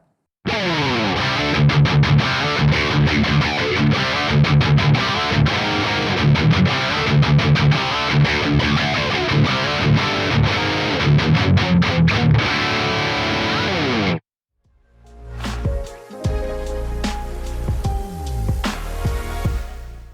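Heavily distorted electric guitar through the Archetype Nolly X amp simulator plugin's default preset plays chugging, palm-muted riffs loud and dense for most of the time, then stops abruptly before lighter, sparser picked notes ring out.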